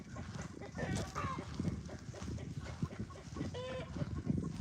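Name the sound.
chickens clucking at a farm carport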